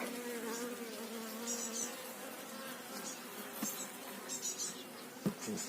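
Dense, steady buzzing of many honey bees close by at a hive, a droning hum with individual insects whining past and a brief tap near the end.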